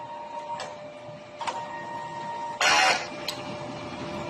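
A DTF printer runs a print head cleaning cycle: a steady mechanical hum with a few faint clicks, then a loud, dense whirring burst near the end before it settles back to the hum.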